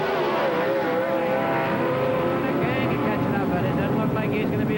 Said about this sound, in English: You see the car in the left lane getting the head start.